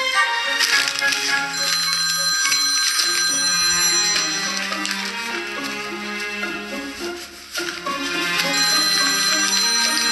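A mobile phone rings loudly with a repeating electronic melody of bright tones that continues for several seconds, briefly dipping before resuming.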